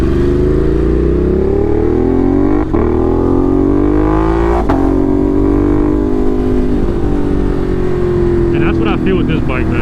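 A Ducati Monster motorcycle on the road, heard from the rider's position, revs and downshifts with engine pitch sweeping up and down, loud and close over rushing wind noise.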